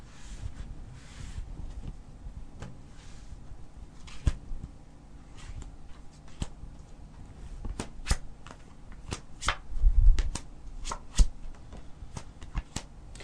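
Tarot cards are shuffled close by in a steady run of soft riffling and sharp slaps, with quiet breaks and a louder cluster of snaps near the end; no one speaks.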